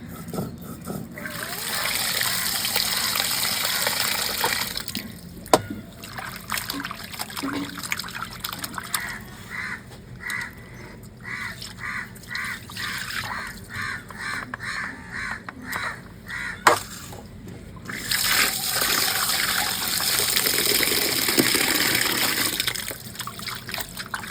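Tap water runs and splashes while a desi rooster is washed for cooking, a steady close trickle at the start and end, quieter in the middle, with crows cawing and faint voices nearby.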